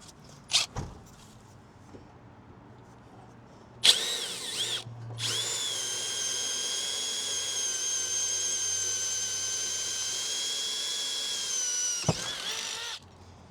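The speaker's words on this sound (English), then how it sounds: "I'm going to drill through that pinch weld in the side of the van." After a couple of brief bursts, a power drill whines steadily through a van's metal pinch weld for about seven seconds, close and loud, then stops abruptly.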